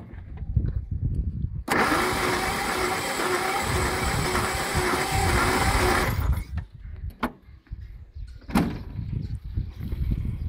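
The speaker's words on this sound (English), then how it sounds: "Even the way the engine cranks is slightly different than the rest" An engine cranks over on the starter during a compression test, a loud steady whirring churn lasting several seconds, then stopping, with clunks and handling noises before and after.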